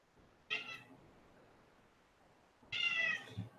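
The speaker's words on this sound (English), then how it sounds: "My cat's just meowing." A house cat meows twice, a short call followed after a pause by a longer, drawn-out one, fairly close in an otherwise quiet room.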